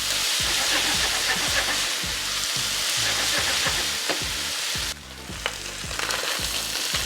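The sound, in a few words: ground beef frying and browning in pan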